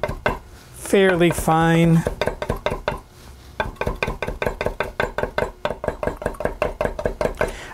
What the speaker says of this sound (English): I'm gonna just kind of chop this up